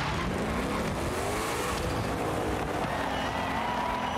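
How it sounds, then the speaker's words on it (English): A Ford Mustang Shelby GT500 in Forza Horizon 5 drives hard, its engine note climbing and shifting steadily, with tire noise and rushing road sound filling the whole stretch, close and loud. "We got to own and drive the Ford Mustang Shelby GT500."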